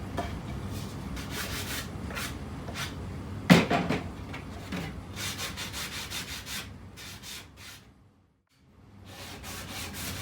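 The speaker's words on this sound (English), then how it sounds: "So I'm just sanding these edges." Rhythmic scratchy rubbing of a low-grit sanding sponge across a wooden board edge, repeated strokes with a brief knock and a short pause near the end.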